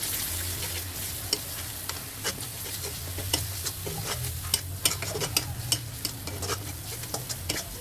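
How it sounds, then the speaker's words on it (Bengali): Spices frying in oil in a pan after browned onions for matar paneer, a steady sizzle broken by repeated scraping stirs of a spoon, close and fairly quiet with no talking. "মশলাগুলো কিন্তু শুধুমাত্র তেলের মধ্যে কষিয়ে নেব"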